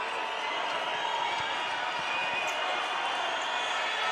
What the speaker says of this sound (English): you can hear the crowd is so unhappy with that call